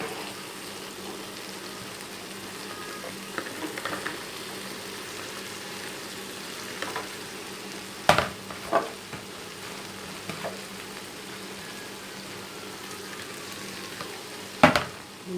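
Chicken fries in a tomato masala with tikka masala, chili sauce and soy sauce, giving a steady, fairly quiet sizzle throughout. Occasional sharp knocks from stirring cut in near the end.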